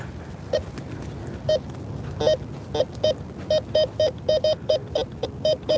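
Repeated short electronic beeps from a Bounty Hunter Tracker metal detector giving a crackly signal over dirt, irregular at first then speeding into a steady pulsing pattern over faint background hiss.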